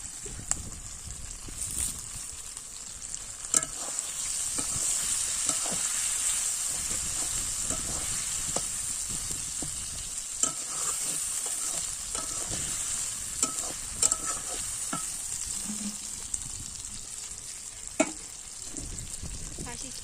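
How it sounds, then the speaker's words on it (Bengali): Shrimp and spiced vegetables sizzle and fry in oil in a pan, with steady hissing throughout and scattered scraping and clinking as a utensil stirs them, close and continuous. "চর্বি মশলা আর চিংড়ি মাছগুলো মশলার সাথে ভালো করে কষিয়ে নিলাম"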